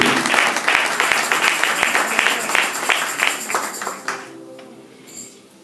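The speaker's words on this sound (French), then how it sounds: "Let's clap hands for the word of God." Audience at a church women's conference clapping their hands, a loud, dense burst of applause that carries steadily for about four seconds before tapering off into a quieter room with a faint late flare.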